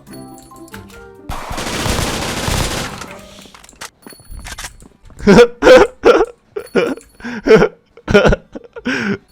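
Gunfire in the Roblox game Block Spin comes as one dense burst of rapid shots, followed by loud, choppy vocal outbursts close to the microphone.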